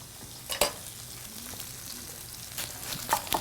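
Pork chops searing in a pan, a soft steady sizzle with a few sharp clinks and scrapes of a utensil, close and alone.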